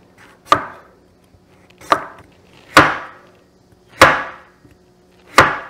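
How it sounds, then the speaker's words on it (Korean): A knife chops through butternut squash on a cutting board in five sharp, close strikes, roughly evenly spaced with short ringing tails and no talking. "이 호박을 썰어 가지고 요 코닝 그릇에 담아서 한 7분 정도 쪄낸 다음에 반죽에 넣을 거거든요."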